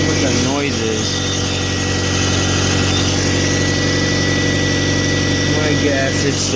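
A turbocharged B20 engine with new cams idles steadily and loud up close, its continuous drone carrying a whining, chirping tensioner pulley noise throughout.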